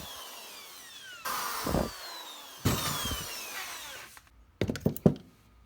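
A power drill whines in two sustained bursts as it bites into metal drilling a pilot hole in a motorcycle transmission part, followed by a few short, choppy bursts of drilling.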